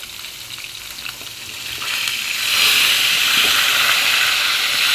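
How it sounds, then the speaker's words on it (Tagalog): Milkfish fries in hot oil with a steady crackling sizzle that swells louder partway through and keeps hissing close by. "grabe ang bukal sang mantika"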